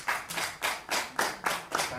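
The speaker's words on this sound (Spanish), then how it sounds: "Un aplauso" A small audience claps in rhythmic, evenly spaced bursts, about eight sharp claps in quick succession, welcoming a guest at a sports interview event.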